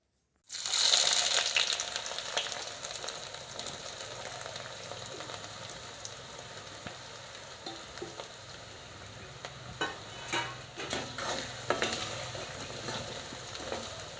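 Chopped ginger and garlic sizzle steadily in foaming hot oil, a mix of sesame and coconut oil, with scattered stirring clinks and crackles and no talking.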